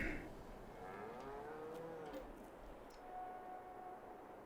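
Cattle mooing in Farming Simulator 22 on the Erlengrat map, one drawn-out low moo rising and falling over a steady farm background hum, with a fainter moo later, no talk.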